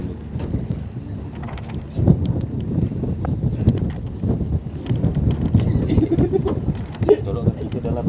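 Gusty wind buffets the microphone outdoors around the fast boat MV Putri Anggraini 02, a rough, uneven low rumble with gusts, while people talk under it.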